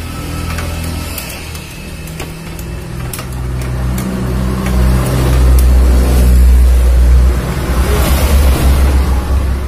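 A motorcycle engine is started and settles into a loud, rumbling idle that swells in the second half, with clicks and knocks of handling at the start and no clear speech.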